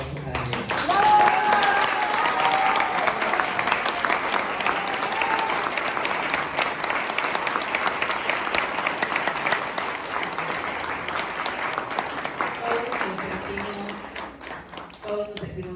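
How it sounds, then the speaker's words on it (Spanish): A crowd honoring Leo, who will represent Tlaxcala, gives him a sustained round of loud applause lasting around fifteen seconds. Voices can be heard over the clapping, which fades near the end. "le quiero pedir a todos un fuerte aplauso para Leo"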